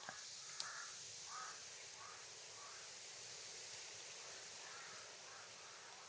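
Several crows caw in a video game, a series of faint, evenly spaced calls over a steady windy background hiss.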